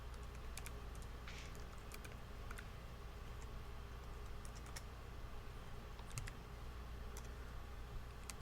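Faint, sparse keystrokes on a computer keyboard as HTML code is typed, scattered irregular clicks over a steady low hum with no voices.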